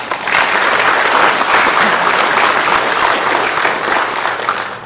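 A crowd at a residents' meeting for the Sanbon District 12 apartment redevelopment claps in sustained, loud applause that fills the room for the whole stretch.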